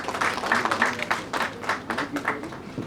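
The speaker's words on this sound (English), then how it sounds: "Applause for the Rajat Srivastav." Audience applause for Rajat Srivastav at the Leading Light Education Summit 2023 at Marwah Studios: a steady wash of clapping lasting a few seconds, with voices murmuring and cheering faintly underneath.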